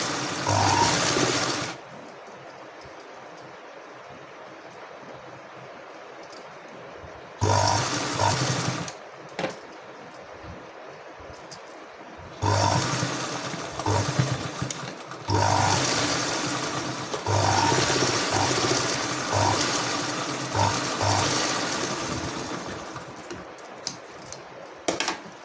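Sewing machine stitching the neck of an Anarkali kurti, loud runs of rapid mechanical whirring in several bursts separated by quieter pauses, close up with no speech.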